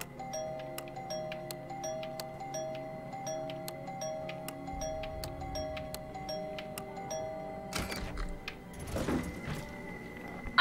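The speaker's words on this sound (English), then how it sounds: "See, a doorbell." A doorbell in the video game Deathloop chimes with repeated ringing ding tones over a steady hum, ending in a few clunky noises near the end.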